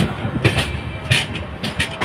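Hingoli Janshatabdi Express running between Kalyan and Sambhaji Nagar, heard from inside with a steady rumble and recurring rhythmic clacks and bursts of rattle over about two seconds, no speech.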